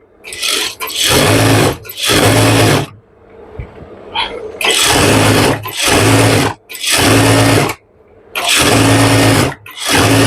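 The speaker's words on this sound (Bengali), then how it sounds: "মুখে মুখে একটা সেলাই দিয়ে নিলাম" Electric sewing machine stitching pajama fabric for pants, running in loud steady bursts of about a second or two, several runs separated by short pauses, close up with no talk.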